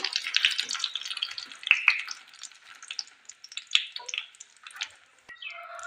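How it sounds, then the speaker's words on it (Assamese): Jujube fruit frying in a pan for a pickle, giving a steady crackling sizzle with irregular pops and bursts throughout, fairly close and with no talk. "এইদৰে বগৰীখিনি মই অলপ 10-12 মিনিট সময় ভাজি ল'ম।"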